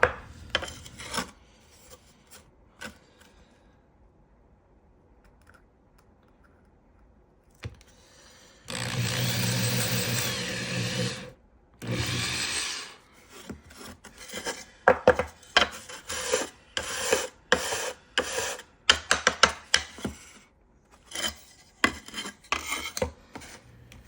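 Bursts of harsh, high-pitched cutting noise from a power tool cutting through a carbon fiber plate, one long run then a series of short choppy passes after quiet handling.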